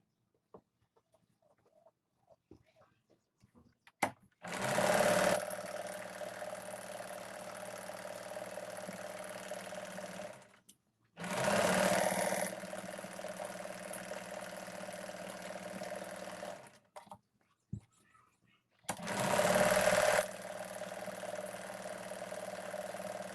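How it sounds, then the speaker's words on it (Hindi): A sewing machine stitches a double seam along the seat of ladies' pants. It runs in three steady humming bursts separated by short quiet pauses, fairly close and alone. "अब हम बैक पार्ट के आसन में भी इसी तरह डबल सिलाई लगा लेंगे।"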